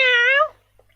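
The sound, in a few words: person imitating a cat meow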